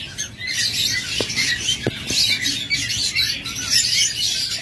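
A pair of lutino red-eye Fischer's lovebirds call with dense, high chirps and chatter, close and continuous, with a few sharper squawks cutting through.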